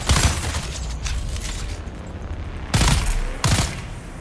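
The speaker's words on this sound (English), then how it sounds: "she's taking some bullets" Gunfire hitting a character in Dune: Awakening, a burst of shots at the start and then two sharp separate blasts after a quieter stretch, moderately loud.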